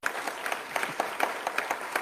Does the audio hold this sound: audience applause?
yes